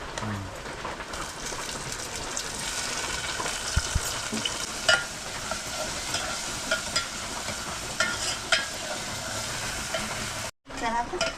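Onion and tomato sizzle steadily in a hot pan while being stirred for a crab curry, with occasional scraping clinks of the spoon against the pan throughout.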